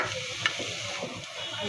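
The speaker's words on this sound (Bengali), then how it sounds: "সামান্য একটু তেল দিয়ে নিয়েছিলাম, সাথে নেড়ে ভেজে নেব।" Shredded cabbage frying in a little oil as it is stirred, a steady close sizzle with faint scraping, no voices.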